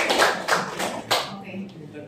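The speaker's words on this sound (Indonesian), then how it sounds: "Kasih aplaus lagi buat." A few short bursts of classroom applause for a student, three quick rounds of clapping close by, fading into quieter room noise with a voice murmuring underneath.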